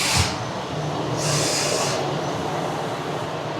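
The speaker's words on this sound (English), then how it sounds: "there's an announcement saying that a train is coming" A local train pulls into a Japanese station with a steady rumbling roar, bursts of hissing noise rising and fading over the first two seconds, the sound loud and close with no voices.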